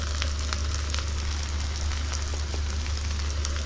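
Prawns frying in a hot pan with turmeric, giving a steady, close hiss and crackle with scattered pops throughout, no voices.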